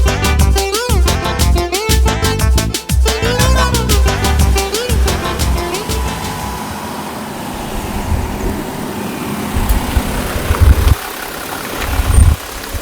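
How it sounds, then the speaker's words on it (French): A car engine idles and runs steadily close by as someone gets into the car, a low continuous rumble with a brief harmonic whine at the start and a few faint knocks near the end, no talk. "Alors je prends ma voiture, je monte"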